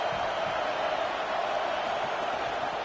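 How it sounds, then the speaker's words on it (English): A stadium crowd at an American college football game roars steadily to back the home defense, a dense, loud, unbroken wall of cheering noise with no pauses. "Listen to this crowd just shaking the girders of this place, trying to help their defense."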